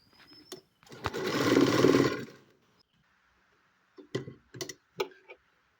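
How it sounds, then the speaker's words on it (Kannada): A sewing machine runs a single close burst of about a second stitching the side seam of a uniform dress, with sharp clicks and taps of fabric handling before and after. "ಇವಾಗ ಇನ್ನೊಂದು ಸೈಡ್ ಸ್ಟಿಚ್ ಹಾಕ್ತಾಯಿದ್ದೀನಿ"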